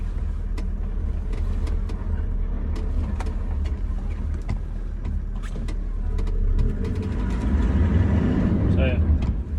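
An ex-mine Toyota Land Cruiser drives along with a steady engine and road rumble heard from inside the cabin, plus scattered rattles and clicks. Near the end the engine note swells louder.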